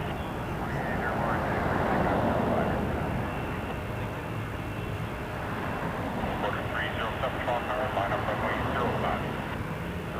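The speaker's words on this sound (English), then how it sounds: "here we got 737 MAX 8 Air Canada 113 headed to Vancouver" Air Canada Boeing 737 MAX 8 lining up on the runway at Toronto Pearson, a steady distant jet engine roar and rumble throughout, with a voice talking over it.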